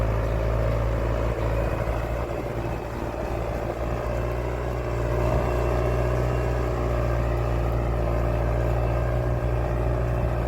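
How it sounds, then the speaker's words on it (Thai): A farm tractor in a rice field drags a plough to cut a drainage channel, producing a steady, continuous diesel engine drone with a deep rumble that holds loud and close throughout, with no talk. "ใช้รถไถดึงออกมาดึงออกมาจนมันเป็นเหมืองได้นะครับ"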